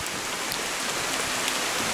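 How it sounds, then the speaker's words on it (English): Hard rain pouring down in sunshine at Wat Chaloem in Lampang, Thailand, a dense, steady hiss of drops close by with no voices. "It's raining hard with the sun shining."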